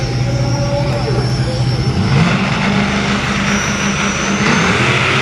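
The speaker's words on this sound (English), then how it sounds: "We got Scheid Diesel Dragster in the lane closest to us here." The Scheid Diesel dragster roars down the drag strip in a loud, continuous engine drone with a rising tone, heard from near the lane under a busy outdoor crowd.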